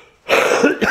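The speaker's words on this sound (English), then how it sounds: "Pardon me, I got the coughs a bit." A single harsh, close cough from a man who is ill with Covid, a raw chesty burst after a short quiet breath, followed by a second smaller hack at the end.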